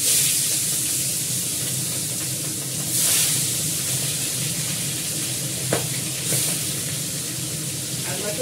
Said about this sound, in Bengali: এবার ভাজবো আর মাছটা।